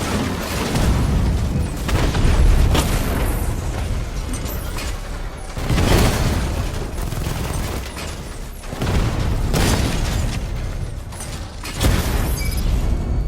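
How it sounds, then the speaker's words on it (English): Heavy mechanical clanking and booming from a Batman: Arkham Knight battle as a Diamondback tank is destroyed, with loud repeated bursts roughly every three seconds over a constant rumbling din. "Batman just took out a Diamondback"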